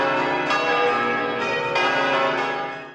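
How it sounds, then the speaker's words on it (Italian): Convent church bells ring loudly and continuously at a friar's funeral, overlapping peals with fresh strikes every second or so, fading slightly at the end. "mentre le campane sembrano salutarlo con un canto di festa"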